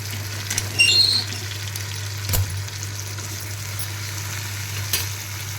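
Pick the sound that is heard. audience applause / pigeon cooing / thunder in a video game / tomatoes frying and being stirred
tomatoes frying and being stirred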